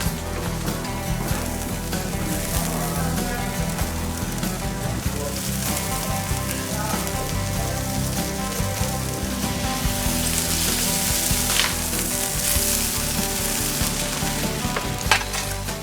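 Skewered, tagged meat roasts in a hot wood-fired oven in Puglia, giving a continuous, dense sizzling and crackling hiss, steady and fairly loud throughout with no voices.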